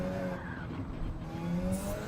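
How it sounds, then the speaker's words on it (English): Car tires spin and squeal in the Gran Turismo 7 racing game while the engine revs hard in low gears, a steady, fairly quiet whine of tire squeal and motor noise lasting about two seconds. "what you're hearing is me spinning the tires."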